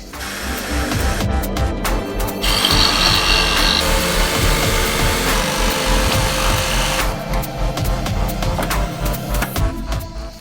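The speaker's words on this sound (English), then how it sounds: "Then I'm going to cut out the pattern using a jigsaw." A jigsaw runs continuously through wood, buzzing and rasping loudly close by, its pitch and grind shifting slightly as the cut goes on.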